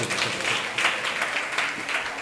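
An audience at a Jain Paryushan religious gathering claps steadily, a dense, moderately loud patter of many hands rising in gentle surges, with no voices over it.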